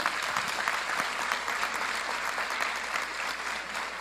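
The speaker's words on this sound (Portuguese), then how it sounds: "aplaudir ao Senhor pela vida dele?" A church conference audience claps steadily for a preacher, a dense, even wash of many hands applauding that holds throughout and fades slightly toward the end, with no talk over it.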